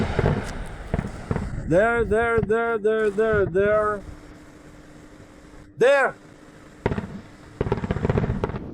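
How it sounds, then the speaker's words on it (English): Russian air defense gunfire against a drone attack over Tatarstan: bursts of popping shots at the start and end, with loud pulsing tonal blasts between and a brief spoken word. "The sounds of desperate gunfire and, as usual, the Russian air defense's inability to repel the drone attack."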